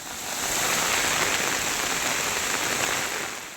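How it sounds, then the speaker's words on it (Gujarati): Heavy rain pours down steadily over a flooded town in Tamil Nadu, a dense, even wash of drumming water that swells briefly and then holds, with no voices. "દ્રશ્યોમાં જોઈ શકાય છે કે અચાનક જ અહીંયા વરસાદ તૂટી પડ્યો છે"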